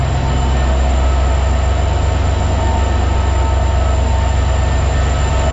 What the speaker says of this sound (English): Here we are, pulling into Chicago Union Station.